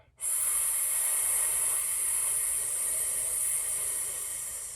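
One long, steady, airy breath during a vocal warmup, close and fairly loud, holding an even hiss for over four seconds before fading.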